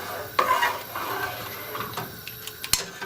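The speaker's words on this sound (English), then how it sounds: "you want to make sure to give it a regular stir" A spoon stirs Javanese coconut milk soup in a pot, giving steady close scraping and clinks against the metal over a constant low background hiss.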